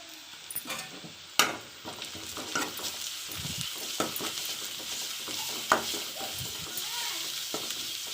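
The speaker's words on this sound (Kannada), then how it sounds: "ಈರುಳ್ಳಿ ಹಸಿಮೆಣಸಿನಕಾಯಿ ಹಾಕ್ತಾಯಿದ್ದೀನಿ. ಚೆನ್ನಾಗಿ ಹುರ್ಕೊಬೇಕು." Onion, green chilli and garlic paste frying for pepper chicken, a steady sizzle with repeated stirring scrapes and occasional utensil knocks against the pan, close and continuous without talk.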